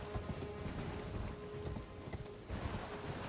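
Horse hooves from Elden Ring. A faint, steady clip-clop of a galloping horse runs throughout, with light mechanical rattles in the background and no speech.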